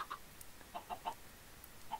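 Minecraft chickens clucking: a sparse handful of quiet, short clucks scattered through about two seconds, with nothing else over them.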